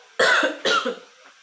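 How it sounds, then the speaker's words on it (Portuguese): A nervous woman gives two sharp, close coughs in quick succession, each with a short rough tail, followed by quiet breathing. "Tô tossindo mesmo só porque quando eu fico muito nervosa"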